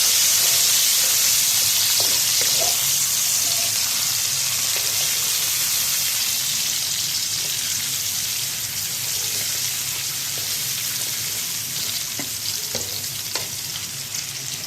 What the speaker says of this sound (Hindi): अब हम इसके अंदर ऐड कर देंगे 2 अदद कटे हुए प्याज। इसको अच्छे तरीके से ब्राउन करना है हमने।